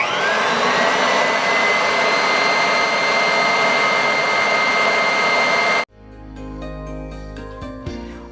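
An electric mixer whirs loudly and steadily through meringue for about six seconds, a dense motor whine that stops abruptly, followed by softer music-like tones.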